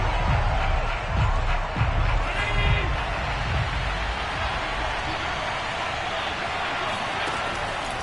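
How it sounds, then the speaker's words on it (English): A football stadium crowd shouting and murmuring in a broad, steady roar with louder swells early on, heard with speech present in the mix. "Plenty of shouts from this crowd as they watch them."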